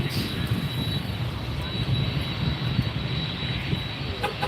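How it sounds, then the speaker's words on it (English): An American Airlines 737 MAX 8, arriving from San Jose, comes in to land at Miami airport with a steady, broad jet roar that holds constant throughout. "Next arrival coming in, American Airlines Flight 360 coming from San Jose, where it left 2 hours, 18 minutes ago, 737 MAX 8."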